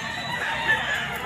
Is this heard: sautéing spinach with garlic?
no